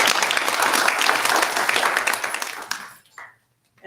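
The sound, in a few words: audience applause and cheering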